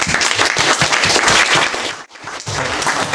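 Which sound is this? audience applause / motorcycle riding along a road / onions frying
audience applause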